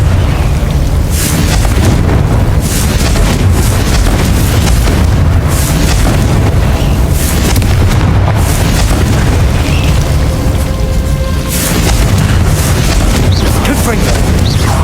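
Loud, repeated blasting explosions from the Confringo spell in the Hogwarts Legacy video game, a dense barrage of booms and bursts layered over continuous game noise with a voice shouting over the action.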